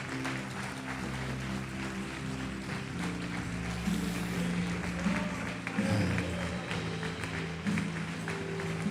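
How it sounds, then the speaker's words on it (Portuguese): A church congregation applauds after a prayer in a Portuguese-language service, dense clapping mixed with sustained music or organ tones and faint voices throughout. "Quem pode aplaudir o Senhor Jesus?"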